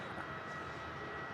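A Jetstar airliner approaches Melbourne Airport, heard as a steady, faint, distant engine roar with no distinct changes across the short stretch and no talk.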